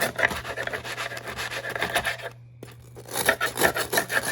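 A serrated knife saws through a crispy grilled cheese sandwich, cutting it into strips with close rasping strokes and a brief pause midway.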